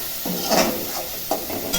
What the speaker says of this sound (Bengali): এবার একটু নেড়ে নিচ্ছি।